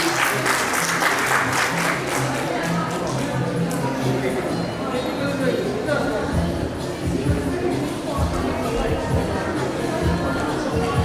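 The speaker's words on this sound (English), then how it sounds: "Please give them a huge round of applause once again" A school audience applauds medal winners at an annual prize distribution ceremony, a sustained roar of many hands that fades into lingering scattered claps as voices and crowd chatter rise beneath it.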